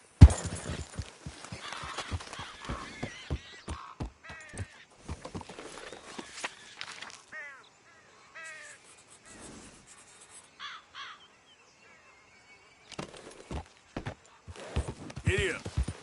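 Horse hooves clop in a quick, regular rhythm while riding in the video game Red Dead Redemption 2, loud at the start then thinning out, with crows cawing in gaps and a voice speaking now and then.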